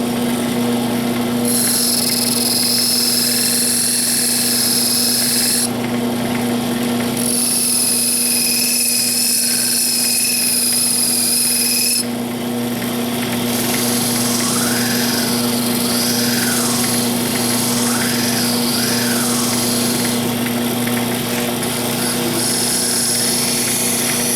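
A high-pitched power tool polishes burrs off metal to a smooth finish, running loud and close in sustained whining bursts with short pauses and shifting pitch as it works.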